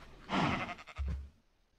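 A single sheep bleats in the Minecraft video game, one short, quiet wavering call with a low grunt-like tail, heard alone.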